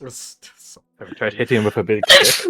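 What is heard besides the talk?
sneeze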